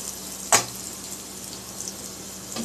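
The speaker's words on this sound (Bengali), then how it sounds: "রসুন ভেজে দিলে" Garlic for chicken fried rice hits hot oil with one sudden loud hiss that settles into a soft, steady frying sizzle close by; no talking.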